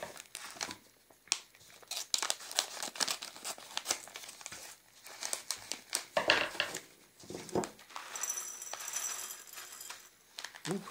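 Plastic packet of mixed peppercorns opened by hand, giving close, irregular crinkling and crackling with small rattles and tears, fairly quiet and uneven throughout.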